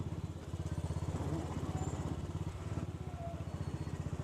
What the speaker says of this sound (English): every Enfield rider knows that soft purring sound on a turn